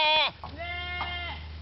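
A sheep bleating sound effect gives a loud, wavering bleat that starts abruptly, followed by a second, longer and softer quavering bleat close to the microphone.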